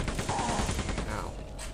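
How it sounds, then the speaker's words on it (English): Rapid machine gun fire in the video game Quake 2, a dense, continuous rattle of shots filling the whole span at steady volume over game noise. "I need to switch to my machine gun."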